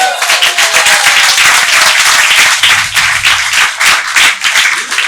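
Audience at a conference breaks into loud, dense applause, many hands clapping together continuously and close, with no talk over it.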